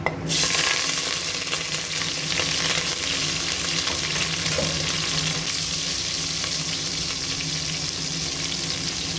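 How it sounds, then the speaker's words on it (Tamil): Onion and curry leaves tempered in hot oil for sambar, a steady close sizzle and frying crackle with faint stirring that continues throughout, no talking. "இப்போ இது வந்து சாம்பாருக்கு தாளிப்பு கொடுத்துக்கலாம்."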